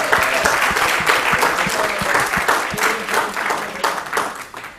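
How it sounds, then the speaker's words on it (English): Audience applause for students, coordinators and professors at a startup pitch competition, a steady dense crowd of clapping hands sustained throughout at moderate loudness with no talking. "Let's give a big round of applause to the students, coordinators, and professors in cohort 15 of SCET."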